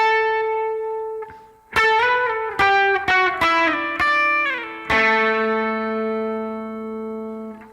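An electric guitar plays the opening lead riff of a song: a sustained note, then a run of sharply picked, ringing bent notes ending on a long decaying chord.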